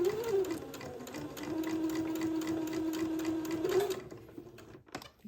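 A sewing machine stitching a seam on a diaper shirt, a steady close whirring hum with rapid needle ticking that runs for several seconds, then gives way to faint handling clicks.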